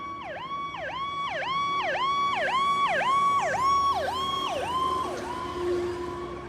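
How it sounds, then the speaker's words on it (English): An ambulance siren wails in a rapid repeating rise-and-fall cycle, loud and close, then drops lower in pitch and fades as the vehicle passes by. "As the ambulance approaches, the siren pitch is really high, and as it passes you, the pitch drops to a lower frequency."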